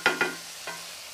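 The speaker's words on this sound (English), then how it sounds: "we're just going to cook this a little longer until the onions start to become translucent" Onions frying in a pan and being stirred, with three scraping stir strokes over a steady sizzle, fairly close and alone, while cooking for a shepherd's pie.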